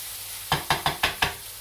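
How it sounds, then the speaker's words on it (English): Five evenly spaced knocks of a utensil pressing and breaking up ground meat in a pan for bobotie, each a short dull thud over faint background sizzle, with no talking. "So now the one thing we're supposed to be doing with this is mincing it really hard"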